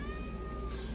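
A cat gives one sustained, clear meow that lasts about a second, close and alone with no talking.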